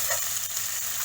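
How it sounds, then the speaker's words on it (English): Onions and finely chopped capsicum sizzling in a hot pan for street-style pav bhaji, a steady close frying hiss with no voices. "I am adding finely chopped capsicum now, 1 medium sized capsicum."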